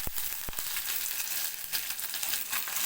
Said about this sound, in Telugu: ఇక్కడైతే నేను కట్ చేసి పెట్టుకున్న ఉల్లిగడ్డ ముక్కలు, 3 పచ్చిమిర్చి, 2 రెమ్మల కరివేపాకు అయితే వేసుకుంటున్నాను.